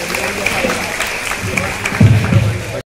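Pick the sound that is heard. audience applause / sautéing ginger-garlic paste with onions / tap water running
audience applause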